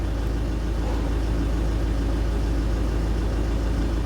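The Royal Snail engine idles steadily, a constant low rumble with a broadband mechanical hum, with no talk over it.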